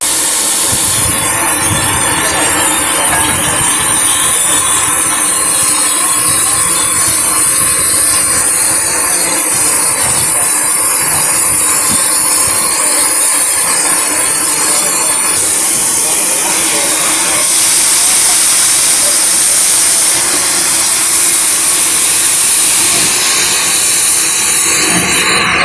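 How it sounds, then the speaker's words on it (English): Steam train leaving Haverthwaite station in the Lake District, bound for Lakeside, with loud continuous hissing steam and rumbling, clattering movement throughout, heard up close. "Our train then left for Lakeside."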